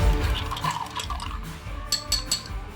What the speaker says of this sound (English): And we're going to stir that